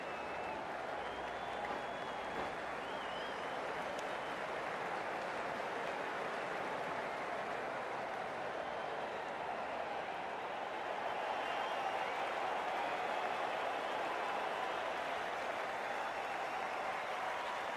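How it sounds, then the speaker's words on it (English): Spectators applaud at a Major League Cricket 2025 match between Texas Super Kings and MI New York, a steady, fairly distant wash of clapping and crowd noise that holds evenly throughout. "A round of applause."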